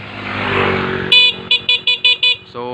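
A Yamaha Aerox motorcycle engine idles, then a stock horn gives one blast followed by five short, rhythmic honks, close and loud, ending with a lower horn tone.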